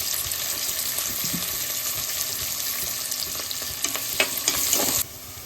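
Onion and green chillies frying in a pan for mushroom biryani give a steady close sizzle with light stirring scrapes, ending in a sudden cut near the end.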